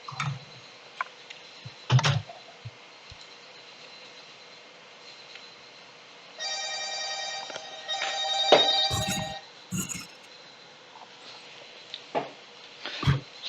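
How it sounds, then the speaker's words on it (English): A telephone rings with a steady, repeating electronic tone for a few seconds, fairly close and moderately loud over a quiet room with scattered clicks and thumps. "Sorry about that phone ringing."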